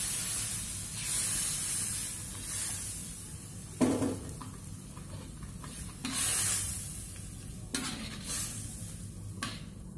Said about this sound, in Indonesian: Baru dimasukkan airnya, saya pakai sekitar hampir 1 baskom ukuran sedang.